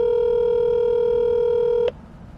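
A telephone call is placed, with a steady touch-tone dialing tone held for nearly two seconds before cutting off abruptly, leaving quiet line hiss.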